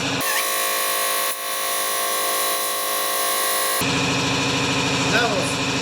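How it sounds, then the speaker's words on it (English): An air compressor runs and builds pressure with a loud, steady droning hum and a tonal whine. Partway through it shifts to a rougher, rattling drone. "I'll just turn on the compressor now."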